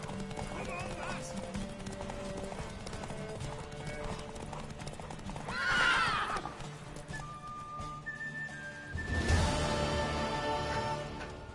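Horse hooves clip-clop steadily with a neigh partway through, in The Witcher video game, under game music and sound effects while a voice talks over it.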